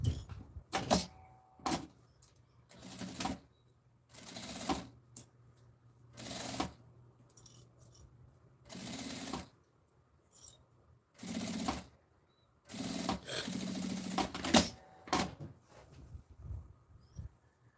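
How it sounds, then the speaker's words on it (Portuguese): Sewing machine stitching just below the bias binding of a small zippered fabric bag, running in repeated short bursts separated by quiet pauses, close and moderately loud. "E a gente vai passar uma costurinha aqui abaixo do viezinho."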